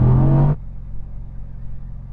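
Drag race car warming its tyres, a loud high engine roar that cuts off abruptly to a low idling rumble, close by.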